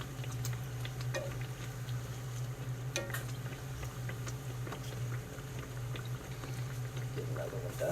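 Fry bread dough bubbles and sizzles in oil in a skillet, a quiet, steady frying crackle with scattered ticks and spatters, under a low hum.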